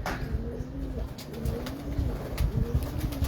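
Top-quality pigeons in a fancier's loft coo repeatedly in low, rolling calls that overlap one another, close and clear, with no talking.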